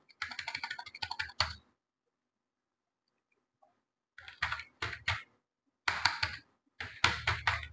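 Rapid, close typing on a computer keyboard: a fast run of key clicks ending in a heavier keystroke, a pause, then several more short bursts of clacking keys.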